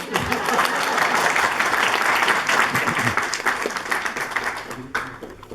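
Applause from an audience at a book unveiling during a launch event, a steady wash of many hands clapping for about five seconds that thins out near the end, with faint voices mixed underneath.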